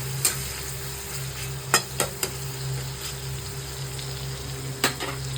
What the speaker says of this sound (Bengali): এখানে আমার পেঁয়াজ আর লঙ্কাটা ভাজা ভাজা হচ্ছে